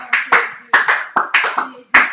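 Hands clap in quick, uneven bursts during a French-language church service praising the Lord, the claps crisp and close with short pauses between them.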